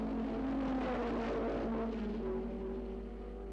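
1963 Formula One race cars at Imola, among them a Ford-engined Brabham, a Porsche and a four-cylinder Lotus, whine and buzz at a distance in a steady, slightly wavering drone over a low hum.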